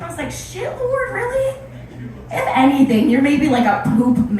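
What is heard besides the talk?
No everyday noise stands out behind the speech.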